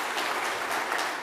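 An audience applauds at a 2022 UCP leadership debate in Edmonton, a steady, even wash of many hands clapping with no voices over it.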